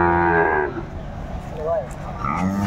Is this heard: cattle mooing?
yes